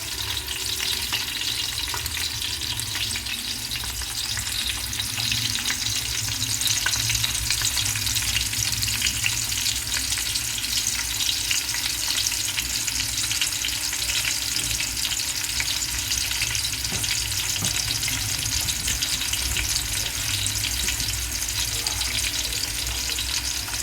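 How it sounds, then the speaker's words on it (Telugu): A large pot of pulao ingredients sizzles steadily in hot oil while being stirred, a dense, continuous frying hiss that stays close and even for the whole stretch, with no voices. "బాగా వేగుతూ ఉన్నాయి. ఇలా వేయించుకోవాలండి."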